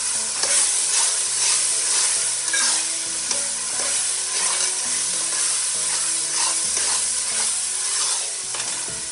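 Masala sizzles in hot oil in a pan while being stirred for mutton biryani, a steady loud frying hiss with soft spoon scrapes and low tonal music running underneath.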